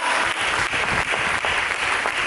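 A church congregation breaks into applause, a thick wash of many hands clapping together, loud and continuous through the short stretch.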